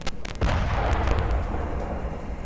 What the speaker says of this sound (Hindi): तेहरान और सेंट्रल ईरान में धमाके हुए हैं एक के बाद एक।